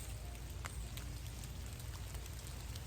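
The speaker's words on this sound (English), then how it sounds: "Oh my gosh, it's raining." Steady rain patters on a surface, a soft continuous hiss dotted with brief drop ticks, fairly quiet and unbroken throughout.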